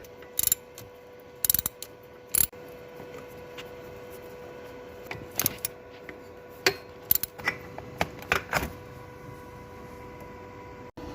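A ratchet wrench clicks in short bursts with pauses between them as it works loose the 8mm or 10mm bolts holding a leaking carburetor on, close and clear in a quiet room.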